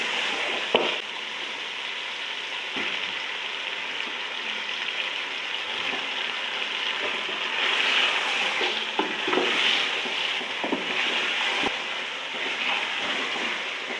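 Paya frying with spices in a pan and being stirred, a steady close sizzle broken by scattered scraping clicks of the spoon against the pan, with no talking.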